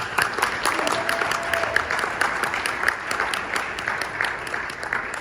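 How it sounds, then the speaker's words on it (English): A steady, moderately loud round of audience clapping for a presenter at a conference session, continuous through the whole stretch with no speech over it. "Let's give her a big round of applause."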